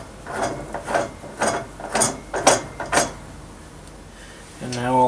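Ratcheting clicks from a jack screw being extended on a keyway broaching setup, seven or so distinct metallic clacks in an uneven rhythm, close by, followed by a brief voice at the end.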